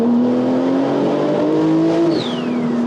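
A 1500 bhp Porsche 992 Turbo S engine pulls hard at full throttle, its loud, steady drone climbing slightly in pitch, heard from inside the car with no talking.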